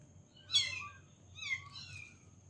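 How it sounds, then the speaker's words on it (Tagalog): Small kittens meowing in two separate high, wavering cries about a second apart, fairly close and clear over a low steady hum of background noise. "May mga pusa dito dumating mga tol, mga maliliit."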